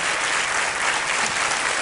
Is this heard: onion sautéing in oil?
no